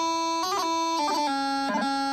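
A Highland bagpipe plays the first two bars of the tune Susan MacLeod, a loud, sustained reedy drone under a chanter melody broken by quick grace-note doublings, close and continuous with no speech.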